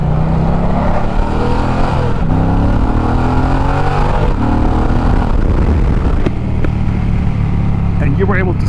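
A 2022 Indian Challenger Dark Horse motorcycle with a water-cooled V-twin engine accelerates hard on a hot Florida road, its loud, steady engine roar rising in pitch through the gears with no pause.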